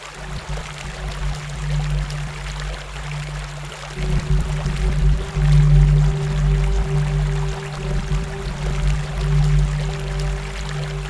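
Water flows steadily through a canal, a continuous low rushing stream that swells slightly midway and stays fairly loud throughout, with no voices.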